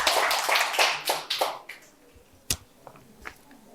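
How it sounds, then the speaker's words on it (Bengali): Audience applause at a quiz competition held at a medical college and hospital in Santiniketan: a burst of fairly close clapping that thins out and fades within about two seconds, followed by a few scattered claps. "জোরে হাততালি হয়ে যাওয়ার জন্য একটা।"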